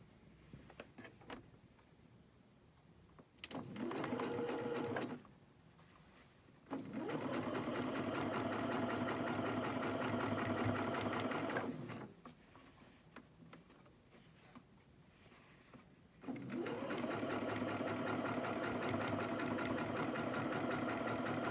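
A sewing machine stitches a quilt seam in three bursts of steady, rapid mechanical whirring and ticking, with short quiet pauses between runs, fairly quiet and close.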